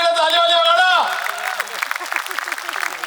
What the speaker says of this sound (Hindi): बे हाथ ऊपर उठीने ताली वाली वगाड़ो।